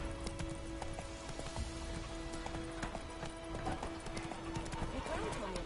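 Roach, Geralt's horse in The Witcher 3: Wild Hunt, gallops with a steady, fast clip-clop of hooves that runs throughout, with a brief whinny, over game music and spoken dialogue.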